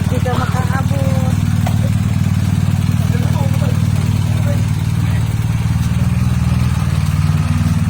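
Motorcycle engines idle and rumble nearby outside a former president's house during a visit by a senator and companions, a steady low engine drone under people talking.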